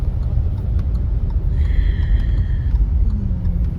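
Road traffic in Bhubaneswar makes a low, continuous rumble of passing vehicles, and a faint horn-like tone rises briefly in the middle. No one talks.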